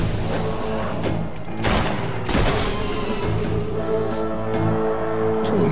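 Gunfire and explosive booms in the video game Fable 3 form a loud, dense battle mix over a steady musical bed, with bursts of shots and heavy impacts clustered near the start and middle.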